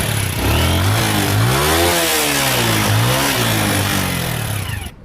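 A motorcycle taxi in Abidjan revs its engine up and down loudly and up close, with rising and falling pitch sweeps before cutting off abruptly at the end.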